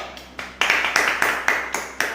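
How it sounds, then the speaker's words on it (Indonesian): A classroom group claps for a student in a quick, steady rhythm, a dozen or so crisp, even claps close by, with no talk over them. "Tepuk tangan untuk Zahwa dulu"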